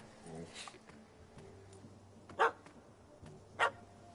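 A dog barks in Witcher 3: Hearts of Stone, two sharp, loud single barks spaced about a second apart over a quiet game ambience, with a character speaking in between.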